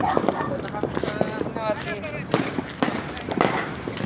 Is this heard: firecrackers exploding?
yes